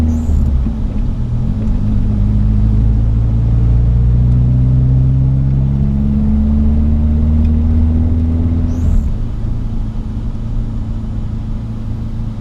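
Interior drone of a manual Toyota AE70 driving through Kuching on a sunny day: a loud, steady engine rumble that climbs in pitch as it accelerates, dips briefly at a gear change, then settles again.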